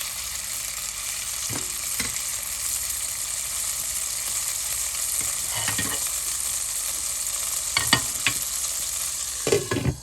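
Onions browning in a pan for Pakistani-style brown rice, a steady close sizzle of frying with a few scraping stirs of the spoon toward the end, no talking.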